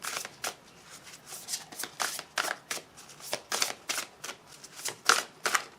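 Tarot cards are shuffled in a run of crisp riffling bursts, each a short papery flutter repeating at an uneven pace about twice a second. The sound is close and moderately loud, with no voices.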